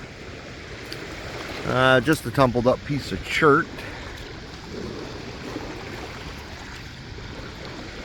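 River water laps steadily against the Mississippi shoreline, a soft continuous wash close by, with someone talking briefly over it early on.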